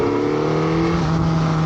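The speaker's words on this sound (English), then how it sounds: "That exhaust tone" A Suzuki GSX-S1000GX motorcycle exhaust holds a steady, fairly loud engine drone with a constant pitch, heard up close, pulling in second gear on a road with no talking.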